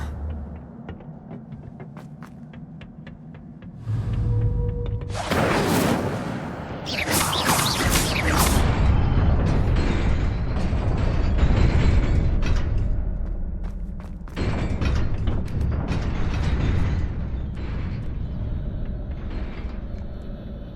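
Fire spell cast in Hogwarts Legacy: a sudden loud whooshing burst of flame with crackling roar, followed by sustained rumbling fire and game ambience, a second surge later, no talk.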